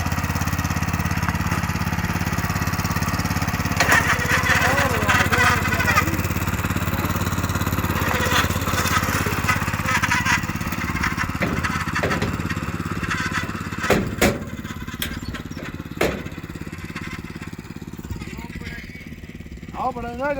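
A motor plough runs in a vegetable garden, its mid-pitched engine droning steadily and loudly for the whole stretch, with brief clanks and people talking over it toward the end.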